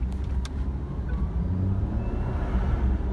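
2017 Karma Revero accelerating along a lengthy straightaway, its internal combustion engine giving a steady, loud low rumble with road noise and no talking.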